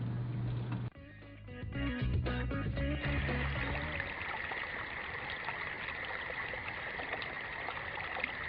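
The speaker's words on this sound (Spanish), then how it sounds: "aquí está el río Machacal" Steady rushing water of the Machacal river flows continuously at close range, after a brief burst of clattering knocks in the first few seconds.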